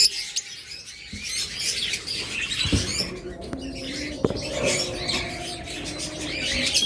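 A caged pair of creamino opaline lovebirds chirps and squeaks in quick, scattered bursts over a constant background hum, with a couple of sharp clicks from the cage.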